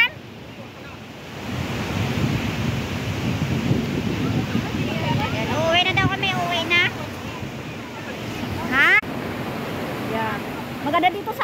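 Strong, cold ocean waves crash at night along a shore, a continuous loud roaring surge with wind buffeting the microphone, while people talk briefly over the rumble.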